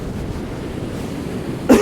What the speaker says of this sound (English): It wasn't supposed to be this windy.